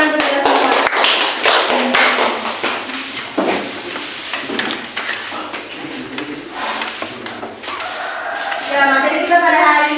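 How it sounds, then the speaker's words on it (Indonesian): A small group in a micro-teaching classroom claps, giving loud, uneven sharp taps close to the microphone for several seconds, with voices talking between and after the claps. "Oke, tepuk tangan untuk kita semua."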